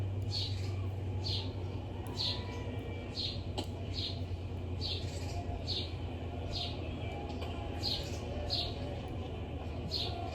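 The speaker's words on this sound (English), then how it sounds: "You hear these birds? They're so pretty." Small birds chirp outdoors in short, regularly spaced high tweets, faint and distant over a steady background hum.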